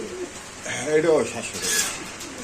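Pigeons cooing at a busy pigeon market where racer and Giribaz birds are sold, soft repeated coos rising mid-clip among the general bustle of the stalls.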